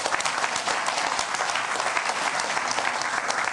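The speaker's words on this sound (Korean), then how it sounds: "다시 한번 박수 부탁합니다" Audience at a Jeju 4.3 forum breaks into loud, sustained applause, dense clapping filling the room evenly without any speech.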